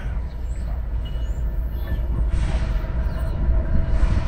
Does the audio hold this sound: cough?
no